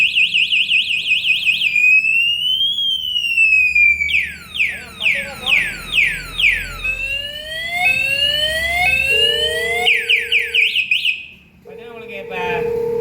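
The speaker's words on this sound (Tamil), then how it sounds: "இந்த லாக்கு இந்த வண்டியில் மாட்டிட்டீங்கன்னா வண்டி சேக்காச்சுன்னா நல்லா அடிக்கும்." Anti-theft alarm lock on an electric hybrid bike converted from an old petrol Bajaj Pulsar blares loudly, cycling through rapid chirps, rising whoops and warbling siren patterns before cutting off abruptly.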